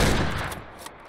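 A single sharp rifle shot from the Way of the Hunter video game, fired at a red deer in a New Zealand park, cracks loudly and fades quickly.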